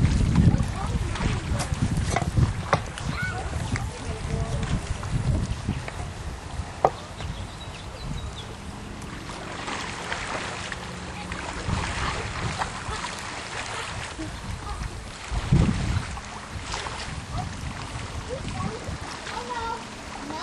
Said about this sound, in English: that's how we paddle